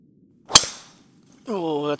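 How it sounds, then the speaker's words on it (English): A golf driver strikes a ball off the first tee inside an indoor dome in one sharp, loud crack with a short decaying tail, followed by a brief voiced exclamation. "So here we go with driver on the first."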